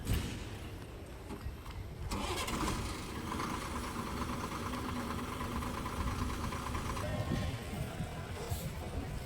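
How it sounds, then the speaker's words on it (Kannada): A KSRTC bus engine runs at Hassan bus stand as the bus readies to depart; a steady diesel rumble and hum swells after a couple of seconds, then idles on amid station noise. "ಅಲ್ಲಿ ಕಾಣಿಸೋದು ನಿಮಗೆ ಗಾಡಿ ಹೊರಡಕ್ಕೆ ರೆಡಿ ಆಗಿತ್ತು ನೋಡ್ರಿ."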